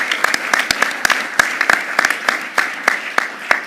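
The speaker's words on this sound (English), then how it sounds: "Would you give the students and Dr. Shimba another round of applause?" Sparse applause at a university board of regents meeting, distinct individual claps ringing out in an irregular rhythm over a thin bed of softer clapping, fairly close and clear.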